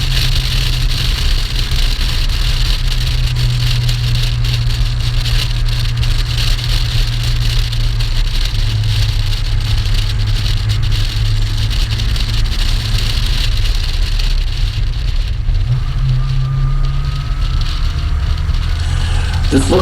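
A registered Vala car climbs the steep Keene Hillclimb road at the 2020 reunion, its engine droning steadily at mid pitch throughout with a rough, continuous tone and no pauses.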